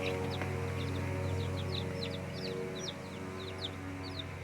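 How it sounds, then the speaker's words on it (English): Baby chickens and guinea hen chicks peep steadily in a store-bought brood, many high chirps overlapping over a steady low hum. "So this right here is a guinea hen."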